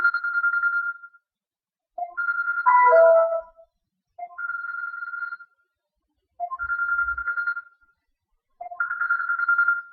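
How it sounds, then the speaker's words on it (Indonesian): A mobile phone ringtone plays a repeating melodic phrase in about five evenly spaced bursts, clear and moderately loud with no talking over it. "sorry sebentar, HP saya bunyi"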